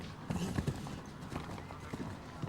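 Hooves of a chestnut German-bred horse, 16 years old, at a show jumping competition: a few soft, irregular thuds and clip-clops at moderate distance over steady background ambience, with no talk.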